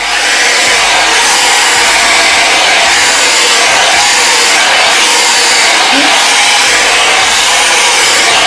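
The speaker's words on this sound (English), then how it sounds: "It is basically a blow dryer but with a brush" A hot air brush, a blow dryer fitted with a brush head, runs steadily and loudly throughout with a constant airy roar and no pauses.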